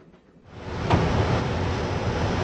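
A train in the Broken Sword adventure game rolls along with a rising, steady broadband rumble and rushing noise that swells in after a quiet start and holds loud to the end.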